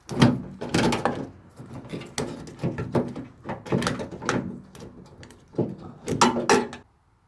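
Close, irregular metallic rattling and clunking as a small loose part shakes around inside a Mazda Miata barrel lock, in uneven bursts before stopping.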